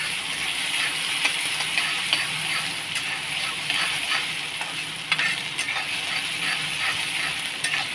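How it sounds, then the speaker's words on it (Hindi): Green chilies and onion fry in a pan while being stirred for a Hindi-style ridge gourd flower and boondi sabzi, giving a steady, close sizzle with small scraping stirs, and no one talks over it. "यहाँ पे हरी मिर्च और प्याज डाल लेते हैं, और इसे भी अच्छे से फ्राई करना है हल्का हल्का ब्राउन होने तक"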